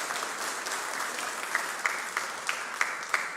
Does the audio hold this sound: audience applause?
yes